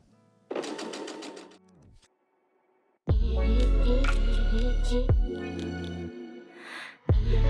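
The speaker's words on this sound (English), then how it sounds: "Realign the new edge with the edge of your presser foot, lower your presser foot, and then you can continue sewing." A sewing machine stitches fabric for a tie-back dog bandana, running in a short burst, pausing, then whirring loud and steady for several seconds before stopping.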